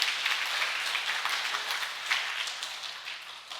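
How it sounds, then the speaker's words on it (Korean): A church congregation at a Sunday service in Jinju claps together in a continuous, moderately quiet ripple of applause that holds steady and tapers slightly toward the end. "자, 박수하겠습니다."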